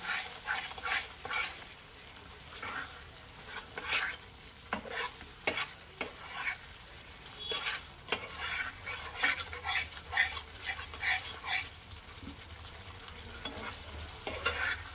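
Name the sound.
sautéing and stirring egg curry masala in oil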